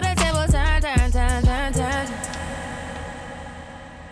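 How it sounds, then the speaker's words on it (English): Music run through a DJ reverb effect set to 50%, with a few punchy beats and melodic phrases up front, then a washed-out, spacey tail that fades away into a trailing wash. "The reverb has more of a washed out effect"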